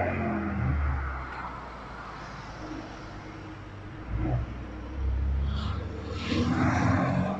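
A Ferrari California engine with stock exhaust rumbles steadily at close range, swelling with a few revs and a louder burst of exhaust toward the end, with no talking.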